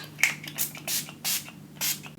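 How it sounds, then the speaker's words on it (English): Milani Make It Last setting spray spritzes onto a face in four short, soft hissing bursts, close by and quiet, with brief pauses between them. "So I'm just going to spritz this on my face and go."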